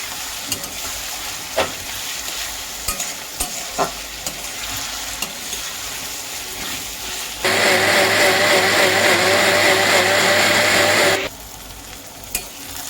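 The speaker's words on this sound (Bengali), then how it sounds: "পেঁয়াজটাকে এখন হালকা ভেজে নেব ভালো করে।" Onions frying in a pan, a steady crackling sizzle broken by repeated scrapes and clicks of a stirring spoon. Midway a loud, harsh whirring burst rises for several seconds, then stops.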